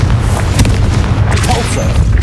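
A Confringo spell blast in the Hogwarts Legacy video game, a dense continuous booming burst that is loud and close and fills the whole moment.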